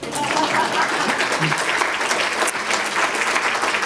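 Applause from an audience at an AIDS 2020 media event, a dense, steady round of clapping close by that runs the whole few seconds without a break.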